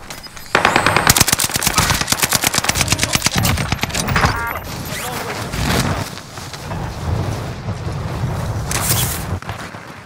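Call of Duty: Modern Warfare gunfire rattles in long, fast automatic bursts. The shots sound close and loud, then give way to scattered single shots and rumbling battle noise.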